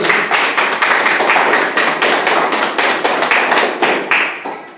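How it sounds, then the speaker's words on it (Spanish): A church congregation claps steadily for several seconds, a dense and loud wash of handclaps with a rhythmic pulse that tapers off near the end. "Dale un aplauso a Dios"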